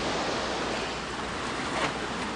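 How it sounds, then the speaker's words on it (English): Sea water washes softly inside a grotto at the foot of a stairway on a tropical island, a steady, quiet broadband surge of gentle waves with no other sounds. "This is the water, fairly quiet at the moment in the grotto from the bottom of the stairs."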